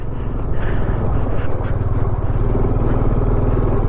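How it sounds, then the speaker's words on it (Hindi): Motorcycle engine labouring steadily as it climbs a very steep mountain road in Ladakh between Pangong Lake and Leh, a loud continuous low rumble held close for the whole stretch with no talk over it. "अब मैं बाइक चढ़ा के देखता हूँ चढ़ पाएगी।"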